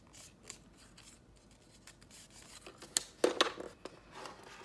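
Paper cut to a one and a quarter inch strip with scissors, then scored and folded for a small handmade book: soft rubbing and crinkling, then a few sharp close snips and folding rustles.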